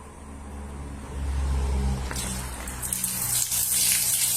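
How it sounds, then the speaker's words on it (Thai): Coolant water gushes from a car radiator drain tap, a steady hiss and splash building after a low rumble at the start, close by and continuing without any voice. "ให้ขันไปจนกระทั่งมีน้ำไหลออกมา เพื่อปล่อยน้ำทิ้งนั่นเอง"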